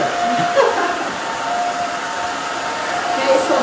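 Hair dryer blowing steadily and loudly on short spiky hair during a haircut, a continuous whooshing roar with no talking.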